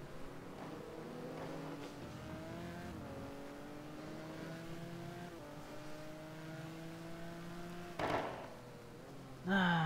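A Ferrari race car engine in a racing video game at Bahrain, revving through repeated gear changes with a smooth, rising whine, moderately close and steady, then a sharp, louder burst near the end.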